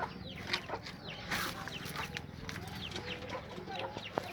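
Pigeons in a pigeon loft coo and flutter nearby, a busy mix of soft calls and short chirps over a low background, with some faint voices mixed in.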